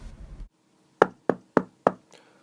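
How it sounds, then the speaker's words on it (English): Sound-effect knocking on a door in a 1920s radio show: four sharp, evenly spaced raps, loud and close, follow a brief bit of murmur and then trail into quiet. "Well, who's knocking at the door?"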